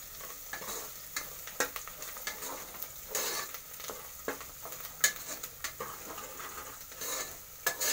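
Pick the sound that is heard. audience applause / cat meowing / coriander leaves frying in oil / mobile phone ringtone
coriander leaves frying in oil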